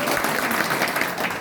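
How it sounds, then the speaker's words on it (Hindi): An indoor audience claps steadily and fairly loudly for a speaker at a networking business meeting, a dense continuous patter of many hands with no break. "चलिए एक बार सर के लिए जो है ताली बजा दीजिए"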